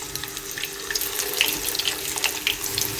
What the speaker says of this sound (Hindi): अब मैं स्नैक्स को इसमें डालूँगी इस तरह और इसको शैलो फ्राई करेंगे।